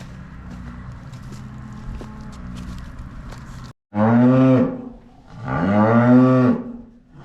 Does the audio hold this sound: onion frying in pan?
no